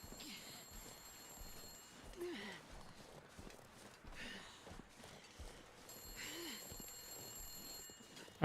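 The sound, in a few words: telephone ringing in a video game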